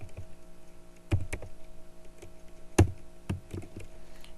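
Keystrokes on a computer keyboard while an Excel EOMONTH formula is entered: a few sparse, quiet taps and clicks spaced irregularly over a faint steady hum, no talking.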